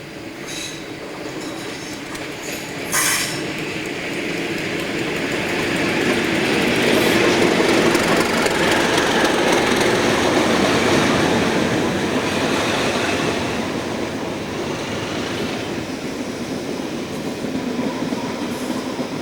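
A Class 37 diesel locomotive hauls unrefurbished passenger cars around a little-used curve. The engine note swells as the train nears and then recedes, with steady wheel clatter and faint squeals.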